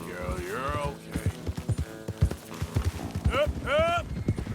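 Rapid hoofbeats of several horses galloping in the video game Red Dead Redemption 2, loud and close, with a horse whinnying partway through and shouting voices over the pounding.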